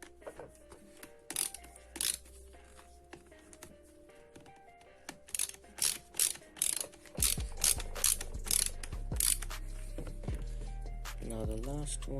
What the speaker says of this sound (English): I like it like this, so I know all the screws are tightened evenly.